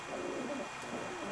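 Soft cooing of racing pigeons in a loft, a low murmuring bird call running steadily through the short stretch without voices.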